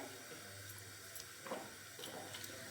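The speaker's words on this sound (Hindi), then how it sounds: "पानी हमने इतना शामिल करना है कि अच्छी तरह उसमें गोश्त हमारा अच्छी तरह से उसके अंदर डिप हो जाए।" Water is poured into a pot of beef while making Pakistani beef khara masala: a quiet background carries two brief splashing pours close by, with no speech.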